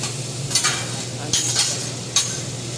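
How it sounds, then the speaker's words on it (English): Sausage cooking on a hibachi grill at a buffet, with a low steady sizzle and a few brief sharp scrapes or clinks of a utensil on the hot surface, fairly close and without talking. "They're making me this sausage roll."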